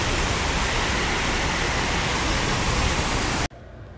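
Tinago Falls, a waterfall in a forest in Biliran, Philippines, producing a loud, steady broadband rush of falling water close by, unbroken for several seconds before cutting off suddenly near the end.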